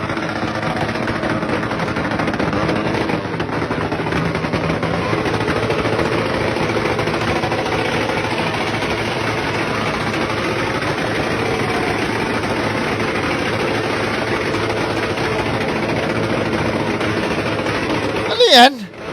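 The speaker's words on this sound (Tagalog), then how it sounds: "Yung nagpapatunog ng ng tambutso nila?" Motorcycle exhausts revving and popping on a street, a loud, steady rumbling roar with rapid crackle that holds for most of the stretch before a sharp burst and cutoff at the end.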